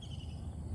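Steady high-pitched cricket chirping, continuous and faint, over a low rumbling outdoor background.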